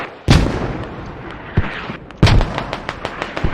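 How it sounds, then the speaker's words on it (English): Mortar fire in a team shooter match: a loud opening blast, then repeated booming impacts and sharp cracks scattered over a few seconds, close and punchy with layered explosive reports. "Mortars."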